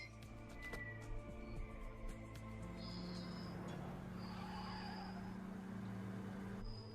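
A four-door Dodge Spirit passing by quickly, a faint, distant engine hum with a steady low drone and some muffled road noise, heard alone without talk.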